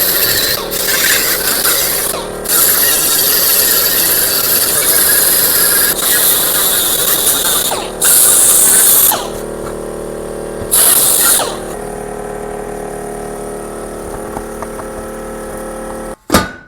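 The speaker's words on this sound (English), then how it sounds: "I'm gonna finish up this sealing surface with the die grinder," A die grinder fitted with a wire wheel scrubs the sealing surface of an oil pan from a BMW E30, giving a loud, harsh whirring rasp in long passes that drop away briefly between bursts.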